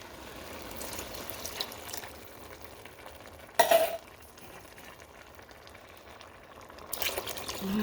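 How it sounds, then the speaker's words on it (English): A one-pot comfort meal with beef broth simmers in a pot with a soft, steady bubbling hiss, broken by a brief clatter near the middle and another at the end. No one speaks. "it's simmering away"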